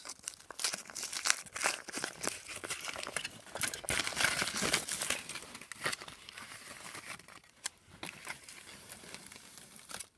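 Foil wrapping crinkles and tears as a chocolate egg is unwrapped up close, a continuous busy rustle with crisp crackling bursts and no talking.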